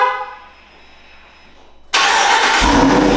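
Loud engine roar bursts in abruptly after a quiet stretch with a brief horn-like tone, then holds strong and steady to the end as the newly acquired dream car starts up and revs.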